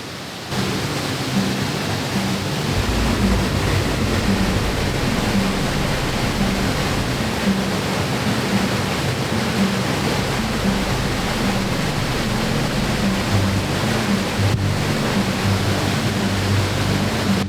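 Heavy rain pours down at a waterfall in Puerto Rico, a loud, steady rushing wash that blends with the falling water and holds constant throughout.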